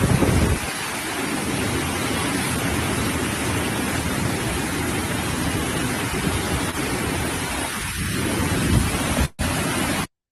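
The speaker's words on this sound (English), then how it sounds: "oh, that's some serious rain" Heavy rain pours down in a steady, dense roar, a continuous hiss of downpour that lasts throughout with a brief dropout near the end and no voices.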